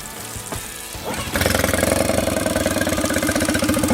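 Outboard motor on flushing earmuffs with water supply flowing, sputtering briefly then catching at about 1.3 seconds into a loud, steady, rapidly pulsing idle that runs to the end.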